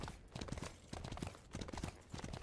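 A horse's hooves clip-clop in a steady, fast rhythm while riding in the video game Smite, loud and continuous with no talk over them.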